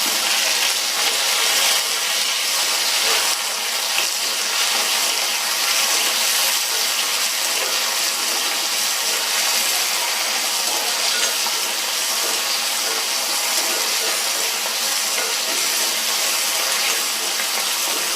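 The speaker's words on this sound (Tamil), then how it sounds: "இது வதங்கட்டும்" A steady, loud sizzling hiss of onions and tomato sautéing in a pan, continuous and even throughout with no talking.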